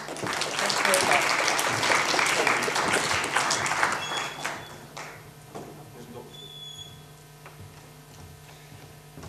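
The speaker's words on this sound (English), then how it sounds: "can we just have another round of applause for both of them, please?" Audience applause for speakers David Mitchell and Julia Skinner at an e-learning session, loud sustained clapping that gradually fades to scattered claps, with a voice speaking over the tail.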